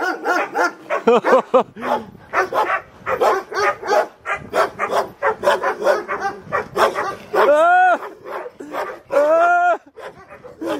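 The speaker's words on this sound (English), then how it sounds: "That's the scariest dog." Chained dogs guarding a cave in Jordan bark loudly and close by in a rapid, repeated volley, with higher whining, yelping tones rising near the end.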